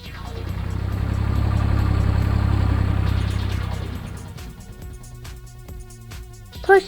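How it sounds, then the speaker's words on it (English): Tractor engine running with a steady low throbbing rumble that swells over the first few seconds and then fades, followed by quieter rattling mechanical clatter and a brief sharp clank at the end. "Tractor."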